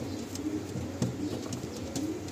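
Pigeons at a market stall selling Madrasi and Andhra breeds coo softly in short repeated calls, mixed with light clicks and shuffling against a steady background.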